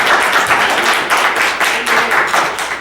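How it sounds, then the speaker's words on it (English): A church congregation claps along during Sunday worship, a steady run of quick, sharp hand claps that keeps a loose rhythm for a few seconds with no voices over it. "clap your hands."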